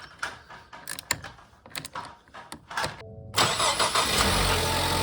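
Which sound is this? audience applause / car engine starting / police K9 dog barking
car engine starting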